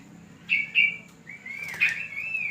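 A wild bird in a guava tree gives a few clear, close chirps and whistled calls in short bursts, with a quiet hum underneath.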